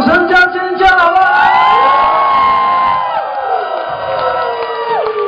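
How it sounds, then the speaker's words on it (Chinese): A concert audience at a live show cheers and screams loudly, with sustained whoops and shouts blending into a dense crowd roar lasting the whole moment. "来点掌声加尖叫好吗？"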